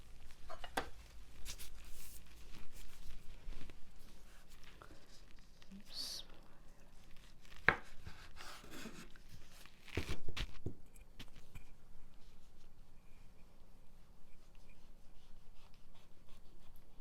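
A knife slices through a chilled-less, freshly made chicken liver cake, giving a few soft, scraping cuts and brief sharp clicks against a board, quiet and close amid faint kitchen background.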